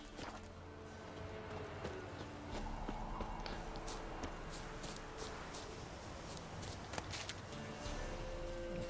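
Horse hooves clip-clop steadily at a walking pace in The Witcher 3, a constant rhythmic plodding under low game ambience with faint occasional sounds.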